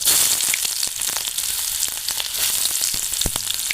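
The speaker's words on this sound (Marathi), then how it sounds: "आणि बघा, थोडासा लसूण आहे तो टाकतो. आणि थोडासा कांदा टाकणार आहे." Garlic and onion sizzle in plenty of hot oil with cumin and mustard seeds, a loud, steady crackling hiss broken by sharp pops and spits throughout.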